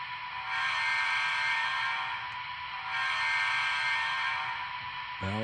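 Model train horn on a Rapido HO-scale RTL Turboliner X2000, a steady two-tone electronic blast sounding twice in a row, loud and close, alone, with a brief higher tone cutting in at the very end.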